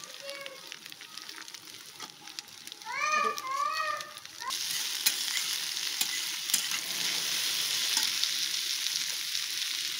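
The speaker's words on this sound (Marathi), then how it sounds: "त्यानंतर लसूण टाकायचे, त्यानंतर कोबी टाकायची," Onion, garlic and cabbage frying for homemade noodles, a bright continuous sizzle that swells as the cabbage goes in, with a short burst of a voice in the background.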